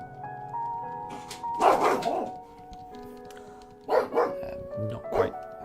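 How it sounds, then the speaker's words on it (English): A dog called Daruk barks in a few loud bursts, grouped in two clusters with quieter gaps between them, heard indoors over a steady background of electronic game music and tones. "Not quite sure why Daruk is barking"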